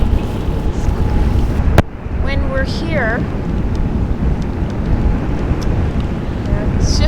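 Steady roaring wind on a boat in the Bahamas buffets the microphone throughout, a constant rumbling rush with a brief sharp click and faint squeaks and a voice in the background.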